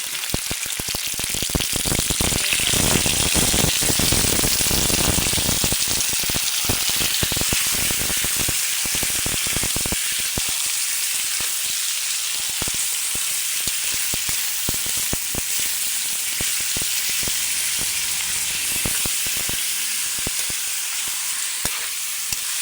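Chicken dropped into a pan of golden-brown onion, garlic and ginger for chicken curry, a loud sharp sizzle that gradually settles into a steady frying hiss, with no talking.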